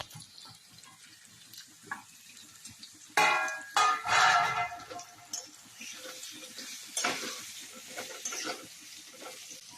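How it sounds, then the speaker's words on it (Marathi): Raw mango pieces go into hot oil with spices, setting off a sudden burst of sizzling and crackling with stirring scrapes, which then settles to a quieter steady fry heard close up. "तेलामध्ये सगळं तळलं गेलं की मग कैरीच्या फोडी छान टाकायच्या."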